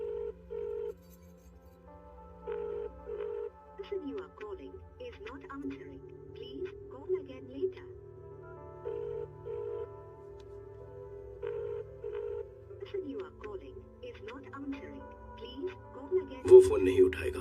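A phone ringing in repeated short bursts, faint and steady, with voices talking over it in the background.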